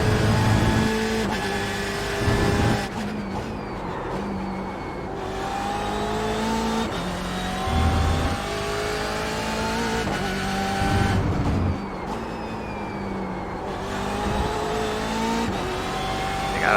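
BMW M8 race car engine from the iRacing sim at Donington, droning and revving steadily with gear changes as pitch climbs and drops, loud and continuous with no talk.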